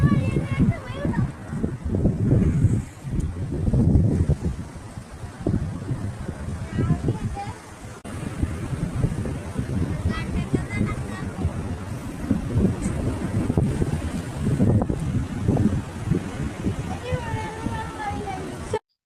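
Midday wind at a beach buffets the microphone in continuous low rushing gusts, with surf-like wash behind it and voices talking over it.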